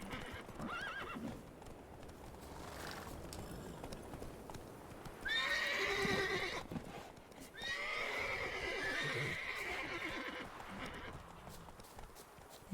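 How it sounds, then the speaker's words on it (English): Wild horse in The Witcher 3 video game, whinnying loudly in two drawn-out neighs amid steady clip-clop of hooves, close and prominent. "Ooh, you can ride wild horses."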